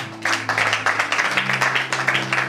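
Church congregation applauding during a Bible teaching service: steady, moderately loud clapping from a crowd of people, continuous for a couple of seconds.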